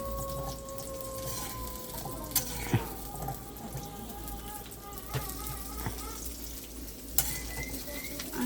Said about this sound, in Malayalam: ഉള്ളിയും കൂടി ആഡ് ചെയ്തിട്ട് ഉള്ളി ഒന്ന് ജസ്റ്റ് ഒന്ന് പുറമൊന്ന് വഴറ്റിയെടുക്കാം.